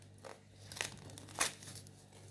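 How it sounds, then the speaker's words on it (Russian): Paper seed packet of viola seeds being torn and crinkled open, a few brief rustling tears close by, quiet, with no talk over them. "Так, сейчас пакетик там порвется."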